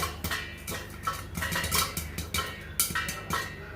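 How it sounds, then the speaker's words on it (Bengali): Popcorn kernels popping inside a covered pan on a home stove, a steady scatter of sharp close pops and rattles against the lid and metal, fairly dense and irregular, with no voices. "এবার পপকর্ন হচ্ছে, পপকর্ন ফুটছে।"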